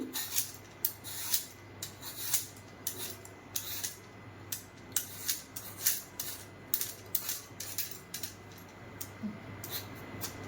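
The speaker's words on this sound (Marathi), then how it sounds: "चांगली साल काढून घ्यायची या कैरीची।" Raw green mango being peeled with a peeler or knife, a quiet series of short scraping rasps repeating at a steady rhythm, close up, with no talking.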